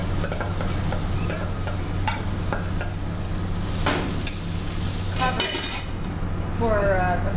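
Beets tossed into sizzling garlic in a pan and stirred, a steady close sizzle under repeated scraping and clinking of a utensil against the pan, with no voices.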